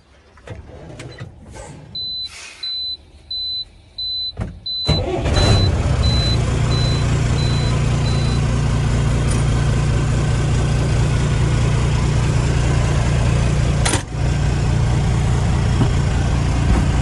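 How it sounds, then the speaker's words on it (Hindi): A 16-tyre truck starts up after a few sharp clanks and short beeps, then its diesel engine settles into a loud, steady idle with one brief dip near the end. "और करेंगे अपनी गाड़ी भी स्टार्ट और चलेंगे सीधे अपने लोडिंग पॉइंट पे।"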